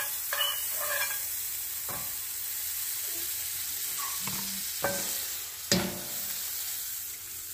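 Butter sizzles softly in a pan for crepes, a steady close hiss broken by a few scraping and tapping knocks of a utensil against the pan.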